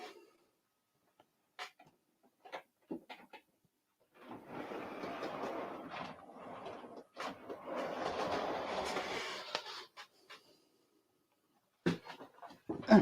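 A model train rolls around its track in two close runs, a soft rumbling clatter with rail clicks, separated by quiet pauses and punctuated by sharp handling knocks.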